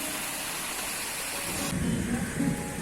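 Steady rain falls outside a home while low thunder rumbles roll in during the second half, continuous and moderately loud with no voices.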